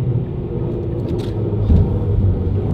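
A deep, steady V8 car engine rumble fills the clip, low and continuous, swelling slightly partway through as if revved.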